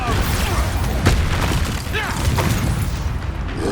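Repeated Expulso explosion spells in Hogwarts Legacy, loud booming blasts and debris crashes layered over constant combat noise, with a voice talking during the fight.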